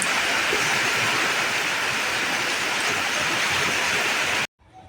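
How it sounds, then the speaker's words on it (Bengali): Heavy rain pours steadily outside a train, a dense, loud, unbroken roar of water that stops abruptly near the end. "খুব খুব বৃষ্টি হচ্ছে"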